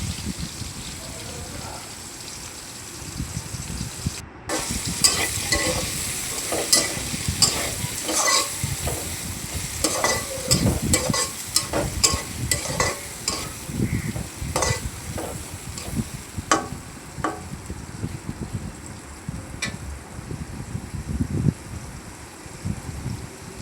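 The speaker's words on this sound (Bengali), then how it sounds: "এখন আমি ফোড়ন দিয়ে পেঁয়াজ দিয়ে দিয়েছি, পেঁয়াজটা কিছুক্ষণ নাড়িয়ে নেব" Onions frying after a tempering of spices, a loud continuous sizzle with frequent scraping strokes of a spatula stirring them around the pan, and a brief voice heard at the start.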